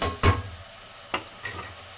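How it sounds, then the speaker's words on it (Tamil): Onions and tomatoes sauté in a pan for mutton biryani. A few sharp stirring scrapes sound close over a faint, low sizzle, with quiet gaps between them. "இப்போ வெங்காயம் தக்காளி நல்லா வதங்கிச்சு"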